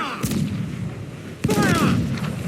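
Ship cannons boom in a naval battle in Assassin's Creed IV: Black Flag, two heavy blasts about a second apart over constant wind and sea noise, with crew shouting faintly.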